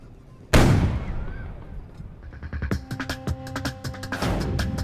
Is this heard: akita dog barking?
no